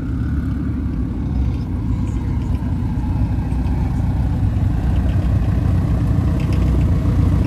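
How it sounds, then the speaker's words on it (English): A turbocharged car engine idles and rumbles close by at a car meet, with a faint high turbo whistle riding above the low, steady drone. "That turbo whistle sounds so good."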